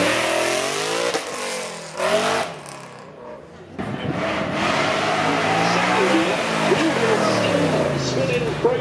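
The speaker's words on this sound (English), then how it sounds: "Let's see what our forced induction 5 litre Toyota V8 can do." A Ford Mustang fitted with a forced-induction 5-litre Toyota V8 accelerates hard on a track run at a supercar event, engine pitch climbing through gears in loud rising sweeps, with a brief dip and a commentator talking over it.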